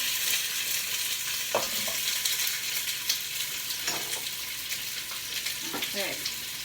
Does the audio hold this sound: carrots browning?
yes